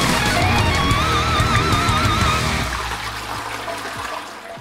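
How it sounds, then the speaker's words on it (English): A toilet flushing up close: a loud, steady rush of swirling water that tapers off toward the end, with a few gurgles as the bowl drains. "I flush"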